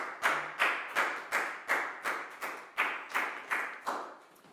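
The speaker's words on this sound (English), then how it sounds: "High five and a big round of applause for Chu" A class of Year 4 children claps in unison for a classmate during a math lesson, about ten firm rhythmic claps in steady time, each ringing briefly in the room before the next.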